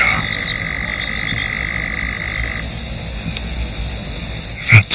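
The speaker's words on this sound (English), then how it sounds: "That's the sound of a nightjar." Male nightjar churring at night on the Brecks heathland, a steady continuous mechanical trill running unbroken for several seconds at moderate distance, with a brief louder knock or rustle near the end.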